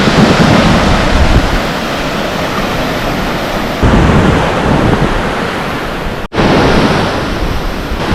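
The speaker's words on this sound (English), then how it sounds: "Waves seem pretty strong," Strong ocean waves break and surge continuously along Om Beach in Gokarna, India, a loud, full wash of surf mixed with wind buffeting the microphone, with one brief dropout near the end.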